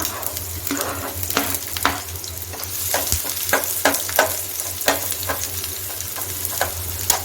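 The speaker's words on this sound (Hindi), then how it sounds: "अब अनियंस को अच्छी तरीके से फ्राई होने देंगे।" Roughly chopped onions fry in a pan with a continuous loud sizzle, punctuated by regular sharp clicks and scrapes of a utensil stirring them.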